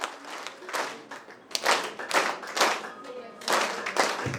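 Audience clapping at a Deepawali celebration hall gathering, bursts of applause swelling and fading in waves over several seconds, with some voices mixed in.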